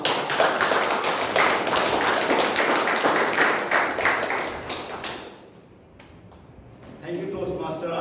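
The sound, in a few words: audience applause for the speaker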